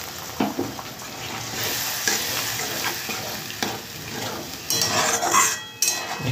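Spices sizzle and fry in a pan for a tilapia fish curry as a little water is added, with close stirring scrapes, clinks of a metal spoon and a sharper hiss near the end.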